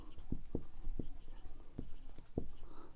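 A pen scratches on paper while solving a class 7 maths problem, giving a string of short, quiet, uneven strokes with soft gaps over a light background hiss.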